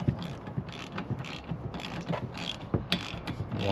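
A ratchet tightens the wiper arm nut on a 2021 RAM 1500 windshield, its rapid, close mechanical clicks coming in quick repeated bursts.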